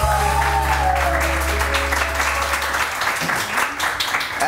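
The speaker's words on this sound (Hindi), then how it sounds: "बहुत सारी तालियाँ फजीला काजी के लिए" A studio audience on a morning TV show breaks into sustained, dense applause for an arriving guest, with steady music playing underneath the clapping.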